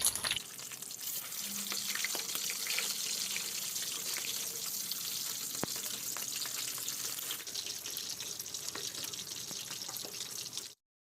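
Fresh mackerel fries in a pan with a long, steady sizzle of hot oil, close and constant for about ten seconds with faint spatters before stopping abruptly, no one speaking.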